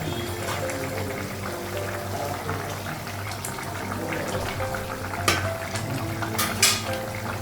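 Fish frying in a pan on a home kitchen stove, a steady dense sizzle and bubbling hiss running throughout, close and fairly loud, with a couple of sharper spatter pops near the end.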